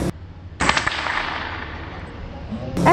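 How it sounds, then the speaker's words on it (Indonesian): A Bocap Predator PCP air rifle, shooting at about 1086 fps at a silhouette target, fires a single sharp, close crack whose noisy tail fades over the next two seconds, and another burst begins at the very end. "Tembakan yang kedua."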